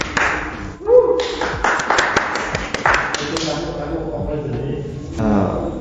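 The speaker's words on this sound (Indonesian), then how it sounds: "Tepuk tangan mas," Applause from an audience at a school-themed talk show or stage event, scattered hand claps rising over chatter and a speaking voice, close and fairly loud, with crowd noise throughout.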